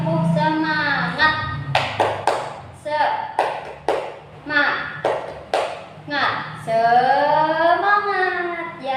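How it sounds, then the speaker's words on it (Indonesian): A class performs a rhythmic 'tepuk semangat' clapping chant, with crisp, evenly spaced claps alternating with voices calling out in time, loud and close. "Coba kita tepuk semangat lagi yuk"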